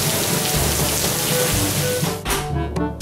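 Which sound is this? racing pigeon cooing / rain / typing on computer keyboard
rain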